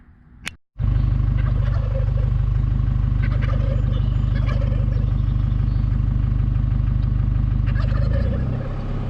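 Chevrolet Colorado ZR2 diesel pickup on 35-inch tires with 4.10 gears and a loaded roof rack, driving on the road toward Silver Lake Sand Dunes, with a loud, steady low engine drone and road noise after a brief sharp knock at the start.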